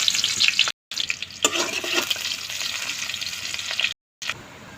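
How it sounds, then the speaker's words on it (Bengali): Whole cumin seeds and garam masala crackle and sizzle steadily in hot oil, fairly loud and close, broken by two brief silent gaps. "দেব গোটা জিরা আর গরম মশলা হালকা করে ভেজে নেব"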